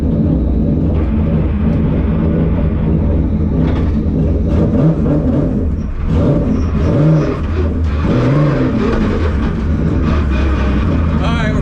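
A 3.6 VR6 drag car's engine revs and accelerates loudly and continuously, with rising and falling engine tones and shift-like dips, heavy and close throughout.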